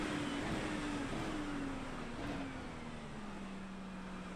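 A race car engine in the iRacing simulator hums at steady revs that slowly drift lower, heard continuously against a broad hiss with no talk.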